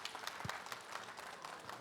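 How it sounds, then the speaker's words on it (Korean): Audience applause at a live education talk-concert event, a dense wash of many hands clapping, steady and moderately faint throughout the short span with no pauses. "오늘 좋은 말씀 해주신 조용민 상무님께 다시 한번 큰 박수 보내주시기 바랍니다"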